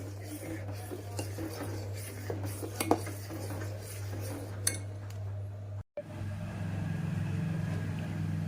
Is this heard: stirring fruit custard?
yes